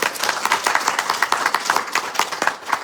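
A live audience claps and applauds for the host of a Hindi devotional house program in Seattle, a steady, dense patter of many hands lasting the whole stretch at close range.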